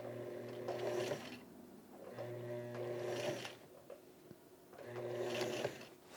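A sewing machine stitches a waistband onto grey plaid pants in three close, steady bursts of rapid whirring, separated by short pauses.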